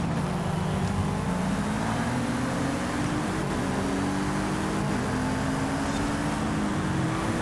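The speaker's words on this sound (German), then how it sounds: "Ja, Subaru schlängelt sich hier mühelos durch die Schikanen durch." A Subaru racing car in a video game drones steadily as it weaves through chicanes, its engine note holding a continuous mid-pitched whine with slight rises and dips, close and loud throughout.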